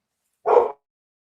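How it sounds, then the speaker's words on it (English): An old pit bull gives a single short, loud bark close by, with silence on either side. "that one that's barking, man. He's an old pit bull"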